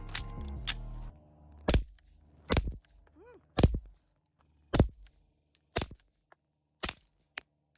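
Suppressed Glock 19 pistol shots through a Mojave 9 suppressor with an added piece, supersonic then subsonic rounds: a series of sharp, loud cracks spaced about a second apart, with a small ringing tone between shots.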